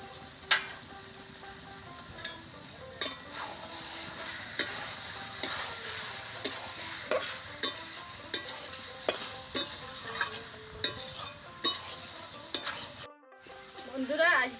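Garam masala and black pepper sizzle in ghee in a pan for a yogurt jackfruit curry, a soft continuous fry crackle broken by repeated sharp scrapes and clinks of stirring, close and fairly quiet.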